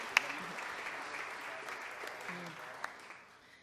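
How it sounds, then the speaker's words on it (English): Conference audience applauding participants at a plenary session, a steady wash of clapping from a large room that fades slightly toward the end. "Give yourselves a round of applause."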